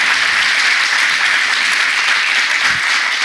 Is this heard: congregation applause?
yes